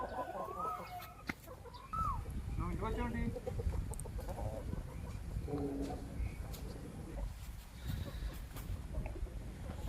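A large breeder rooster clucks and calls in a poultry breeding unit, with other fowl clucking around it and faint background voices.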